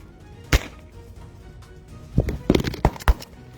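Gunfire aimed at a police team's car: several sharp, loud cracks, one early shot followed after a pause by a rapid irregular cluster of shots near the end, over a low rumbling background.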